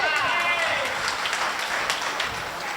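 An audience at a Hindi kavi sammelan poetry recital claps steadily, a dense sustained round of applause with no voices over it.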